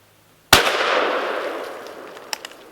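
A .410 shotgun firing Federal number 4 shot at a can: one sharp, loud blast followed by a long fading outdoor echo, with a couple of faint ticks near the end.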